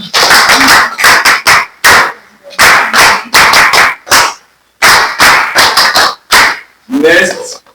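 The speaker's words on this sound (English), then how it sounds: "Let's clap for GIZ." An audience at a training session claps in rhythmic bursts, several sharp, loud, close claps in each group with brief silent gaps between, repeating four times before voices murmur at the end.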